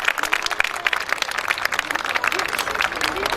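Parents applaud their children's year-end primary school show, a steady dense patter of clapping from a crowd filling the whole stretch without pause.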